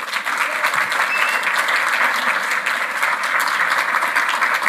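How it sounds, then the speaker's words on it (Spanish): A church congregation claps loudly and steadily in a full, sustained round of applause filling the room, with no voices standing out. "Vamos, un fuerte aplauso al Señor."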